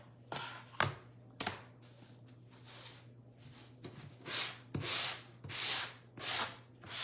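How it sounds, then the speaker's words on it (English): A painted wooden cottage décor piece being sanded by hand, repeated rough rubbing strokes in uneven bursts, close and fairly quiet, with some strokes longer and steadier than others. "Let me sand this down too"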